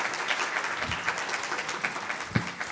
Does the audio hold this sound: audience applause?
yes